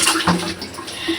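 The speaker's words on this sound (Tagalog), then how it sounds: "kailangan na mag-refill ni Madam ng water sa kanyang timba" Water pours into a plastic bucket during a bath, a steady close splashing and trickling rush that continues for the whole short moment without any talk.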